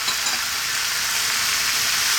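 Tomato and vegetables fry on high heat while being stirred, a steady, dense sizzle running loud and continuous throughout with no voices.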